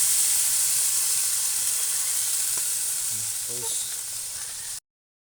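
Eggplant and ingredients fry in a pan with vinegar added, giving a steady loud sizzle and hiss throughout, with a few faint clinks of stirring near the end before it cuts off abruptly.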